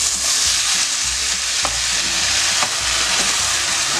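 A blended liquid mixture is stirred into golden rice frying in a pan, giving a steady loud sizzle with a couple of brief scraping stirs.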